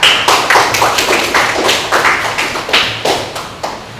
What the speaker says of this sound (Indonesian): Tepuk tangan dulu buat jarak